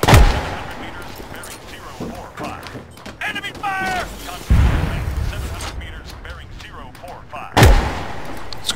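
Enemy machine gun fire in ArmA 3 cracks out as sharp, loud bursts spaced through the scene, with several heavy booming shots and someone talking in between.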